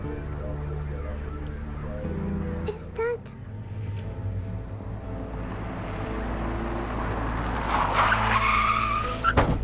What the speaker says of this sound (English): that's when I got run over by a car